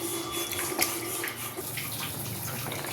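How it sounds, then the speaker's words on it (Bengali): Water is poured into a pan of potato and fish curry, giving a steady splashing rush that runs close and fairly loud throughout, with no voices. "এবারে আমি জল দিয়ে দেবো, একটু হালকা ঝোল রাখবো"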